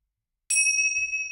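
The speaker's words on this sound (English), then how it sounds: "I'm going to ring the bell." A small bell rung once, a bright clear ding starting after a moment of silence and ringing on with a steady sustained tone, with faint low rumble underneath.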